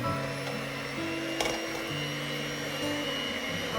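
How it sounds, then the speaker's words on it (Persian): An electric mixer runs at low speed, beating eggs with sugar for a spinach cake batter: a steady motor hum with a brief clatter near the middle, continuous and close, with no talking. "اول میکسر را با سرعت کم روشن کرده میکس میکنیم."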